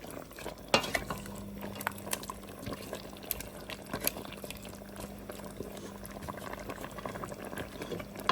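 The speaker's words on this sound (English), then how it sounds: "let's stir this up a bit" Jamaican brown stew chicken with carrots and potatoes bubbles steadily in a pot while a utensil stirs it, giving occasional light clinks against the pot over a constant low simmer.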